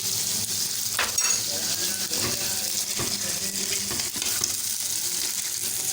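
Balochi tikka karahi fries in oil over a high flame, giving a steady, close, loud hiss of sizzling with occasional stirring scrapes and clinks against the pan throughout.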